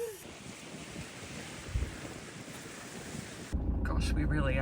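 Seawater laps at the edge of a flooded lakeside area beside the sea on the Peloponnese in Greece, a steady broadband wash under gusting wind buffeting the microphone, with a louder, closer surge near the end.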